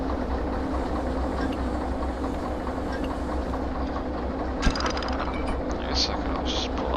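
A locomotive running in the train game Derail Valley, a steady low engine rumble with rail clatter throughout, a sharp clank partway through and faint higher clicks near the end.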